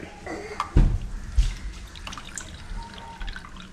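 Water poured and juice strained, with a brief splash and gurgle followed by lighter trickling and dripping, close and moderate in level with a few soft clunks.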